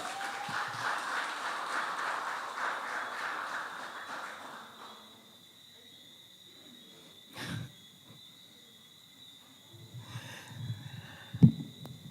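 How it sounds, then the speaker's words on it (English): A crowd's applause fades out over several seconds, followed by near quiet with a few scattered claps and thumps. "Can I get a round of applause for our presenter of the awards, please?"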